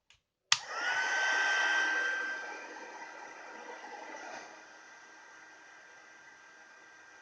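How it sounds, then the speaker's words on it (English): An embossing heat gun switches on with a click and blows a steady, close hissing roar with a thin high whine over puff paint on a Christmas card, easing slightly quieter partway through. "the hotter the embossing gun gets, the quicker your puff paint starts puffing"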